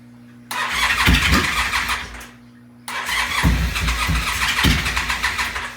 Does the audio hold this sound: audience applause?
no